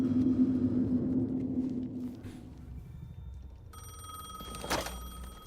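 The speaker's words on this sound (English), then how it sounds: "Answer the phone." Telephone in the video game Alan Wake 2 rings with a bright, steady electronic tone in the second half, following a low rumbling stretch with a faint knock near the end.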